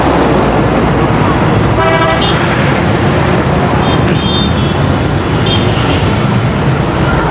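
Busy road traffic at an underpass construction site in Golra Mor, Islamabad, with a steady roar of vehicles and a few short car horn toots partway through, loud and continuous throughout.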